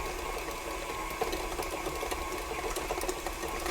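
Electric mixer whirring at higher speed through cookie dough in a bowl, a steady buzzing motor hum with faint rhythmic rattle, close and moderately loud.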